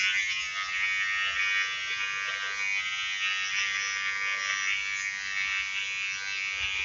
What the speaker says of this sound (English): it has a very powerful motor. I haven't done the initial charge, but it's cutting through the hair nicely.